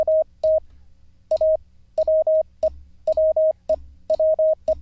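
Morse code tones spelling the word 'we', played as crisp beeps of a single steady pitch in quick groups of short and long elements, loud and close over a low background hum.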